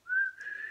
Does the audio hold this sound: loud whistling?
yes